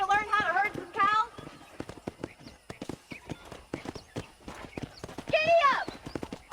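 Rapid clip-clopping hooves pound steadily in a quick gallop rhythm in Red Dead Redemption, with a couple of sharp horse whinnies breaking in at the start and near the end.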